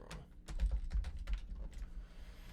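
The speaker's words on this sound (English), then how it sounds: "my typing on camera never fails to be atrocious" Quick, uneven typing on a computer keyboard during a coding session, a faint run of light key clicks heard close up with no talking.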